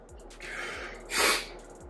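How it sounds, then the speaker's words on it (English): Someone sniffles after eating Korean spicy chicken ramen, a faint breathy intake through the nose building to one stronger sniff near the end, close up with quiet background noise. "Alright, now I'm getting the sniffles."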